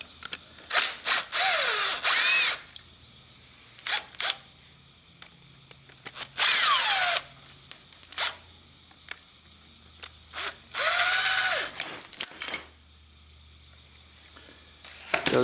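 Impact gun pulling the harmonic balancer off a 2JZ engine in a garage, with several loud multi-second bursts of whirring and hammering separated by ratcheting, clinks and quiet pauses.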